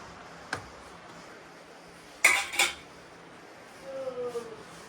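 Pots and utensils clatter while tea is being made in a home kitchen, with a click, then two sharp metallic clanks, then a brief scraping rub.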